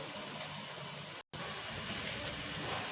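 Sliced onions browning in hot oil for a shahi biryani: a steady, dense sizzling hiss close to the pan, broken by one brief moment of silence midway.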